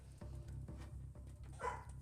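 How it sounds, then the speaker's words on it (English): A dog cries and whimpers at a door to be let in, a series of short, evenly spaced low yips and whines close by, ending in a slightly higher whine. "The dog wanted in. He was crying at the door."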